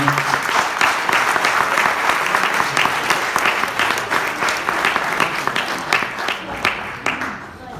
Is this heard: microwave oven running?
no